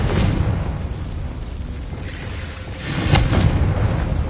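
A Confringo blasting spell explodes in Hogwarts Legacy on PS5, a heavy, rumbling boom that swells into a sharper burst partway through, loud and close with no speech.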